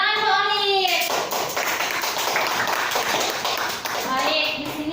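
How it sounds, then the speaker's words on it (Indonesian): Classroom clapping for a student during a moral-education micro-teaching lesson: a dense patter of hands between brief children's voices at the start and end, moderately loud and close. "Tepuk tangan untuk Walid."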